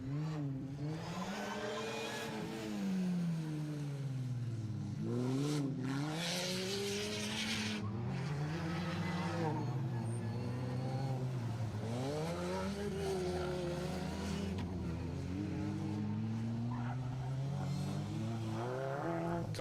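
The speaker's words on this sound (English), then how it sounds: "Rob Fisher really on it, out the hairpin." A rally car on a circuit rally stage accelerates hard out of a hairpin, its engine note rising and falling through repeated gear changes and revs, with tire squeal and a distant, sustained roar over about twenty seconds.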